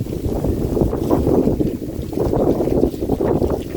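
Blustery wind gusts across an outdoor graveside, a steady low roar buffeting the microphone throughout with no letup.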